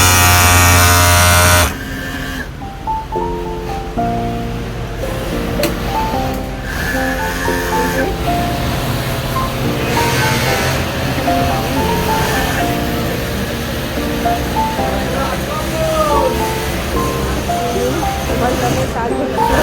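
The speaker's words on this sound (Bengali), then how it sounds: "এবার তোমাদেরকে দেখাবো এই যে ওভারলকে কাজ হচ্ছে। দেখো, এটা ওভারলক মেশিন।" Overlock sewing machine stitching in a garment factory, a continuous mechanical whir running throughout behind a person talking, with a brief louder burst at the start.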